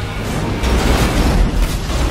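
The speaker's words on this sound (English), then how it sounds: "Where is all these random explosions happening?" A dense, continuous rumble of booming blasts in GTA 5, loud and close, with no pauses between them.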